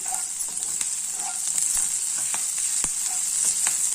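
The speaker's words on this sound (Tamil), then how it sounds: "வெங்காயம் கொஞ்சம் வதங்கிச்சு பாருங்கள்" Onions sautéing with salt in a pan, a steady bright sizzle running throughout with occasional sharp ticks and scrapes from stirring, close and even, with no speech.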